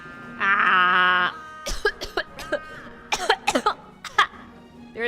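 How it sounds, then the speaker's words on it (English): A sustained vocal sound followed by a series of short, sharp coughs, close and fairly loud, with brief pauses between bursts. "There's always a lot of coughing."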